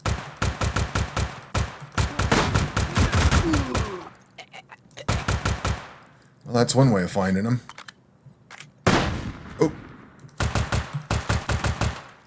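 Bursts of rapid gunfire from the video game Zero Hour ring out in several loud volleys with short gaps between them, while someone talks briefly in the middle.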